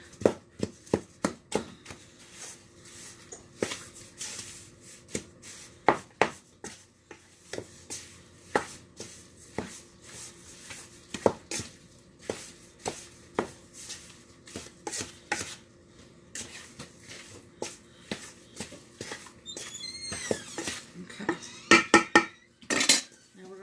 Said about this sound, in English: we take the wooden paddle and chop everything up a little bit